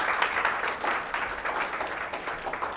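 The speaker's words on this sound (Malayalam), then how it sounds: "കൊടുക്കൂ ഒരു ക്ലാപ്പ്." Audience clapping at a hypnotism stage show, a steady, dense burst of applause from a crowd that carries evenly through the whole moment with no voices over it.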